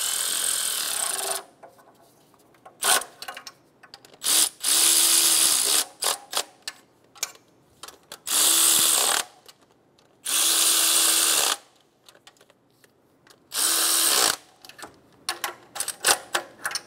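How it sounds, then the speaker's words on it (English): A ratchet snugs down exhaust manifold nuts on a 2007-2012 Nissan Altima's manifold catalytic converter assembly, with several loud bursts of rapid clicking separated by quieter pauses and scattered single clicks, all close up and without talk. "Snug all of the nuts down."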